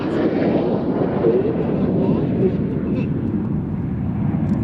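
Red Arrows display jets performing a split manoeuvre at the Sywell Airshow, a steady loud roar of jet engines filling the air throughout.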